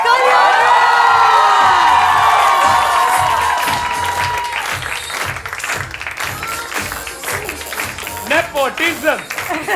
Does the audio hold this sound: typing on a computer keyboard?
no